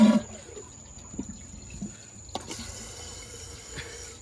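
Water runs into a toilet tank refilling through a newly installed fill valve, a steady low hiss and trickle that grows busier partway through, heard close up and alone.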